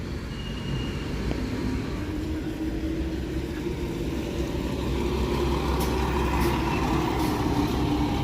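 A city bus idles on Bloor Street in Toronto, giving a steady, close diesel rumble with light surrounding traffic and a few faint high hisses near the end.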